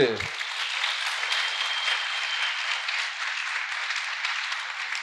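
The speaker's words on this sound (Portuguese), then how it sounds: "Palmas para o Felipe." An audience at a youth apprentice gathering breaks into sustained, dense applause right after a brief voice, the clapping steady and fairly loud throughout.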